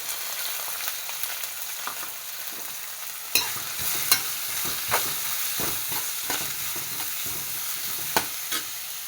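Sliced onions and fennel sizzle steadily in a pan for a fish masala, with a spoon scraping and stirring through them in repeated close knocks, loudest around the middle and again near the end.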